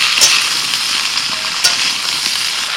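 Mixed vegetables, including yardlong beans, pointed gourd, ridge gourd and tomato, sizzle loudly in a pan while being stirred, with a steady hiss and a couple of sharp scraping clicks.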